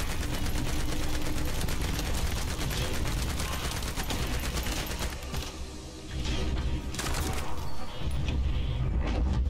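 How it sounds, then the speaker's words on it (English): Gunfire rattles through an online shooter video game in dense, rapid bursts of automatic fire, loud and nearly continuous, with a brief lull midway before shooting resumes. "I found you based on your gunfire"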